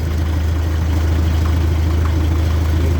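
Caterpillar D2 crawler tractor engine idling steadily, a low, even diesel rumble with a faint whir, close and continuous with no talk.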